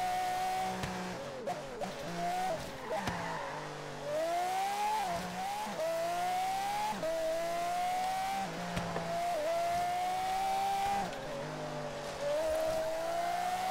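Racing car engine in the video game Forza Horizon 3 revs and shifts pitch continuously for about fourteen seconds, with brief tire squeals and skids mixed in and no talk over it.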